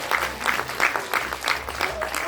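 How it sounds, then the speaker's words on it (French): Children in an audience at a magic and dragons show clap together in steady rhythmic bursts, about three per second, moderately loud and close, with a voice speaking over the clapping. "Oui, vous pouvez l'applaudir,"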